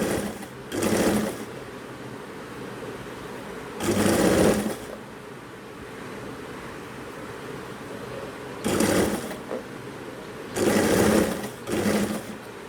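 A sewing machine running a hemmer foot to hem fabric, stitching in four short loud bursts separated by quieter pauses, close and clear.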